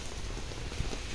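Rain patters steadily on a terrace on a stormy night, a soft, even hiss with scattered drop taps and no talking.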